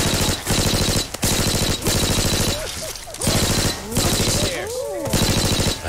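Rapid automatic fire from a P90 submachine gun in Left 4 Dead 2, loud sustained bursts broken by brief pauses, with voices and chatter underneath.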